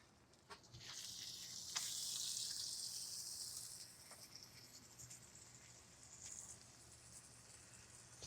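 Swordfish fillets sizzling on a kamado grill, a steady soft hiss that swells briefly into a louder crackling sizzle early on, then settles back, faint and continuous with a few small pops.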